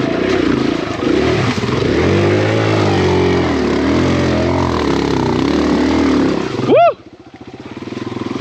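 A Kawasaki KLX 140RF dirt bike engine drones and revs loudly and steadily through deep, soupy swamp mud, pitch rising and falling with the throttle, then cuts off sharply near the end.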